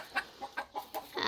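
Chickens cluck in a short series of five or six clipped, close calls at an uneven pace, with no talk over them.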